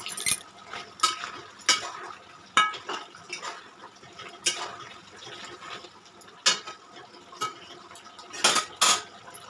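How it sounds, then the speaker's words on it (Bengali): Chicken curry is stirred in an uncovered pot with a metal spoon, producing sharp clinks and scrapes against the pot at uneven intervals, close and clear with quiet gaps between strokes. "এরপর খুলে ভালো করে আমি এটাকে নাড়াচাড়া করে নেব।"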